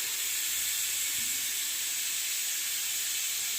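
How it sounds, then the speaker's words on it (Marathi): A pressure cooker cooking khichdi vents steam in a continuous, loud, even hiss that runs unbroken from start to finish with no voices. "हे करता करता इथे कुकरची शिट्टी पण झाली"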